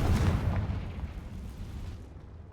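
The Confringo spell goes off in Hogwarts Legacy as a heavy, rumbling explosion. The boom is loud at first and then fades into a long, low roar over a couple of seconds, with no talking.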